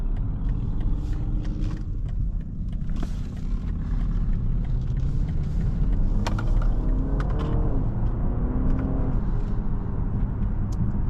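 A 2023 BMW 330e plug-in hybrid driven hard in extra boost mode, heard from inside the cabin as a loud, steady engine drone with continuous road and tyre rumble throughout, no one talking.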